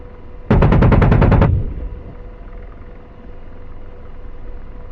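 Helicopter gunfire in a flight-simulator game fires a loud, rapid burst of about nine rounds over roughly a second, then gives way to a low, steady engine rumble.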